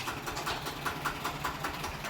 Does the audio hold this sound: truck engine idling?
yes